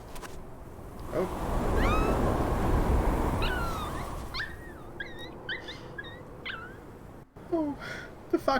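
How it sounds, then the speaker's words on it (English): Sad fox whimpering in the video game Never Alone: a series of high, thin whines and yelps in short bursts over a wind-like rushing background, with a brief louder cry near the end. "the fox sounds so sad when I fall in the hole"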